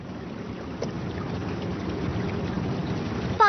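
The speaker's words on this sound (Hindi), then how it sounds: "पानी बह रहा है।" Steady low rushing of flowing water, fairly close and continuous, with faint splashes and a brief sharp sound at the end.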